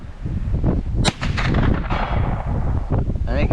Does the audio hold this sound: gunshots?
yes